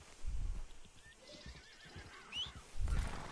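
A horse in the Western video game Red Dead Redemption whinnies in a rising, quavering call, with heavy hoof thuds and snorting at the start and end of the short stretch.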